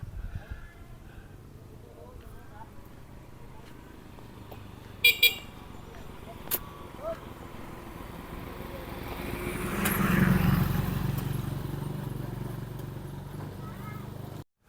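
Highway road traffic in Romblon: a steady roadside rumble, a couple of short horn toots, then a passing vehicle that swells and fades, with faint voices in the background.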